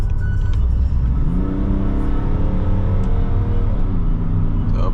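A car pulls hard from a standstill on a 0-100 acceleration run, its engine loud and close with rising pitch, dipping briefly at each gear change before climbing again.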